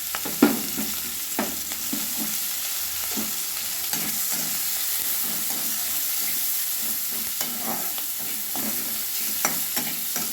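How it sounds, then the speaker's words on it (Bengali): Onion, ginger, green chili and crushed garlic fry in hot oil left from frying fish, a continuous close sizzle with occasional knocks and scrapes of stirring. "পেঁয়াজ, কাঁচা লঙ্কা, আদা ভেজে নিয়েছি"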